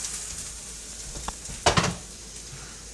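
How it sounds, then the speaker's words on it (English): Onions browning in olive oil in a pan, giving a quiet steady sizzle broken by a couple of brief utensil stirs and clinks. "We got some onions cooking in the pan"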